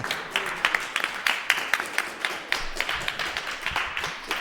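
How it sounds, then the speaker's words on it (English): Audience applauding the champion of a Mario Kart 64 tournament at PA Meet 2024, a scattered round of claps from a small crowd, moderately loud and close. "There's claps all around here, and deservingly so."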